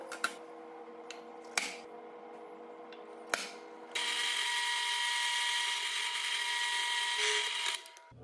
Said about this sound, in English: I first drilled a 3/8 inch hole through both sides